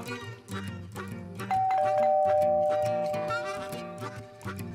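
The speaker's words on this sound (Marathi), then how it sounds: "वो घंटी बज रही है" Doorbell chimes in a home with a sustained musical tone that rings out and slowly fades, over a soft instrumental backdrop.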